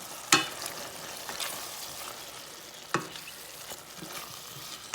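Clam meat being stirred into a frying pan while cooking Carne Alentejana, with a steady low sizzle, a couple of sharp utensil scrapes against the pan, and softer stirring sounds in between.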